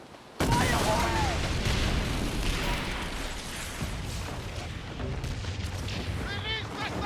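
Naval cannon broadside in the Skull & Bones beta opens with a sharp boom, then keeps up a dense, rumbling barrage of blasts and crashing debris for several seconds, with a voice speaking over the battle din.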